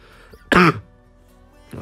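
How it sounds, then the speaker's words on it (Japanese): A single harsh cough or throat clear, loud and close, bursts out alone in a quiet room, followed by a softer second one at the end. "最近マジですね、咳がやばいんですよ。"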